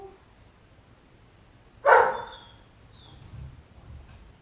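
A single sharp bark from Luna's sister dog, loud and close, followed by faint low whimpering or grumbling sounds.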